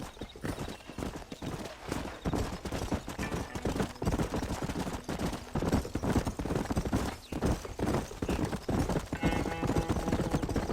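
Horse hooves clip-clop steadily at a riding pace in Red Dead Redemption, a dense continuous rhythm of hoofbeats close up, with faint whinny-like sounds mixed in.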